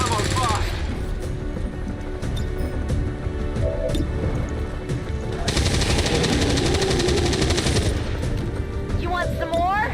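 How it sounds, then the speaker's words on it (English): Rapid weapon fire in a video game, continuous bursts of machine-gun rattle across the whole stretch, loud and close, mixed with game effects and a voice speaking over it. "Weapons burning ammo fast."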